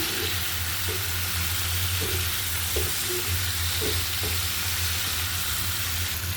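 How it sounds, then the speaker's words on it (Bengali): Chopped hilsa fish roe stir-fries with spices in a pan, a dense continuous sizzle close by with soft, evenly spaced scrapes of stirring through it. "মশলা দিয়ে সুন্দর করে নেড়ে চেড়ে কষিয়ে নেব"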